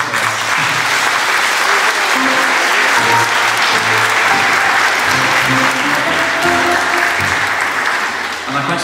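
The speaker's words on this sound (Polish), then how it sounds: "brawa dla rodziców" Sustained, loud applause from an audience in thanks to the parents after a children's Christmas carol performance, steady clapping from a large crowd filling the whole stretch.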